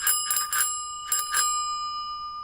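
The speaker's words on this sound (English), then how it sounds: "And check out this awfully mounted bell." Bell mounted on an old Dutch Valuas bicycle made in Venlo rings in two quick bursts of bright metallic dings, the tone lingering and fading afterward, fairly close and alone.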